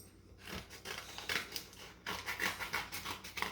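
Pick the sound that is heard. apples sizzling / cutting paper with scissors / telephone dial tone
cutting paper with scissors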